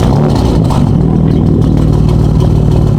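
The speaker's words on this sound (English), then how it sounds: "This is a cold start on a 2015 BMW M4." A 2015 BMW M4 engine runs loud and close in a cold start, a deep throbbing rumble with a fast pulsing clatter holding steady and heavy from start to finish.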